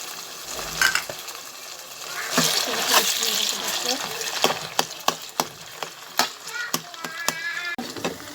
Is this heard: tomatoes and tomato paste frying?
yes